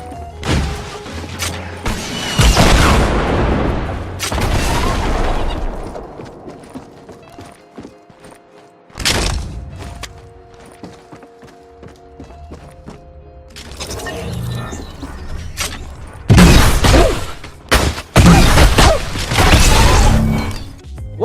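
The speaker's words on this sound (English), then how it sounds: "One of the snowballs bounced off the wall and blew the player up instead, as well as a good part of the building." In Fortnite, bouncing snowball projectiles set off loud explosions that tear through a building, with several heavy blasts and crashing debris bursts spaced apart over a steady game background.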